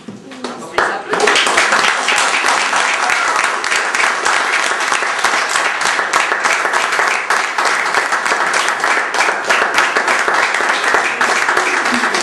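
Wedding guests applaud the newlyweds right after the civil ceremony pronounces them married, clapping that swells within the first second and then stays loud and steady, with voices mingling beneath it.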